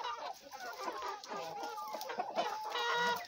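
Free-range hens clucking inside a backyard henhouse, several birds calling over one another in a steady, close chorus of short clucks and murmurs with no talk.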